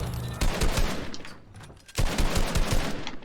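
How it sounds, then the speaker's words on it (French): A small pistol fires in Fortnite, sending a brisk string of sharp gunshots that stops briefly, then resumes with another quick run of shots. "Là, il y a ce petit pistolet."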